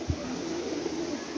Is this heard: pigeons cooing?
yes